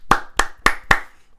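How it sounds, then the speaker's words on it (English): Four sharp, evenly spaced hand claps from one person, close and dry, celebrating Alex's graduation. "Give him a round of applause."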